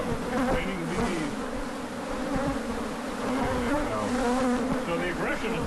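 A dense, close buzzing of many honey bees swarming around a hive in a horse stall, steady and continuous, with faint wavering tones as individual bees pass near.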